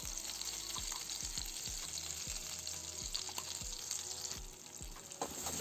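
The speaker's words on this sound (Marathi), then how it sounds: "सर्व वाटण या कढईमध्ये टाकलेलं आहे आणि याला आता चांगलं परतून घेणार आहे" Green pea paste sautéing in a kadhai over a slow flame, with cumin and asafoetida in oil: a steady close sizzle runs throughout, broken by regular soft scraping thumps of the spatula, with no talking.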